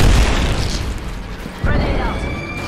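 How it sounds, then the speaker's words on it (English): An arc star grenade blows in a shooter game, with a loud boom at the start and a second burst partway through, over game noise and voices. "Tossing an arc star."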